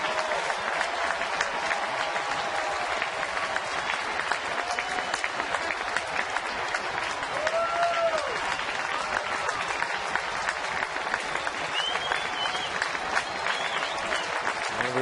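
A baseball crowd stands and claps as Pittsburgh hosts Atlanta in September 2010, waiting on a two-strike pitch to Jason Heyward: dense, sustained clapping and cheering, with a few faint whistles rising above the steady roar.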